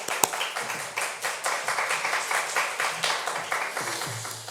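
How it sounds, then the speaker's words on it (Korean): A church congregation at a Friday prayer meeting applauds to welcome a pastor, a dense, steady roomful of clapping with a rhythmic pulse that carries on without talk. "목사님 환영하는 박수 한번 하겠습니다."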